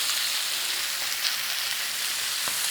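Sliced garlic sizzling in about a tablespoon of olive oil in a frying pan, a steady bright hiss with faint crackles throughout.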